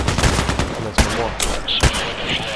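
Full-auto AEK-971 rifle fire in Contract Wars crackles in a fast, dense burst up close, followed by a few sharper isolated reports and faint clinks.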